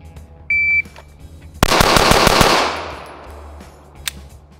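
Rapid gunfire at a shooting target, starting after a short electronic beep from a shot timer. Six loud, close shots fire in quick succession and their echo fades over about a second.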